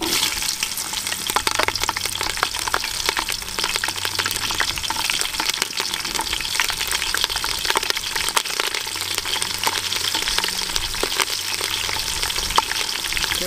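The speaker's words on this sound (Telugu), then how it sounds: "పచ్చిమిర్చి కూడా వేగింది" About ten cut green chillies fry in hot oil with dry masala for a gongura mutton biryani, in a village kitchen setting. The sizzle is loud, dense and crackling, holding steady and close throughout with no voices.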